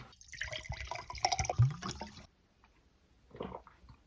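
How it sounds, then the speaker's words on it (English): Water drunk from a glass: wet sips, a few gulps and liquid squishes close to the microphone for about two seconds, then near silence and a brief soft swallowing sound. "Let me drink a glass of water."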